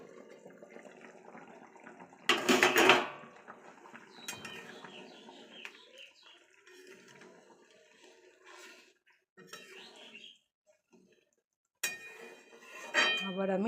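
A lid comes off a pot of chicken curry with potatoes and garlic, followed by close, intermittent metallic clinks and scrapes of stirring between quiet pauses.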